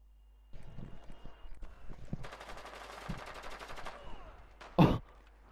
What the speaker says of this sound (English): IQ just shot Ash.